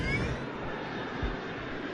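Airliner, Flight 370, accelerating down the runway at night for takeoff: a steady, loud broadband engine roar with continuous rumble, unbroken throughout and with no talking.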